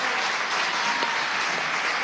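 Sustained applause from a large audience fills the whole stretch, a steady dense wash of clapping with no talk over it.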